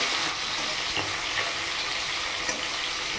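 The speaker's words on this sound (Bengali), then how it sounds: "তো মাছটা আস্তে আস্তে ভাজা হোক" Small parshe fish fry gently in oil with an even, close, continuous sizzle and faint crackles, no voices present.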